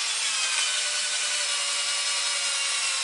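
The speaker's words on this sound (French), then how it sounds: "pour passer la lame de scie." A hand saw blade rasps through a wooden toy boat deck in a close, continuous, even cutting sound with no pauses.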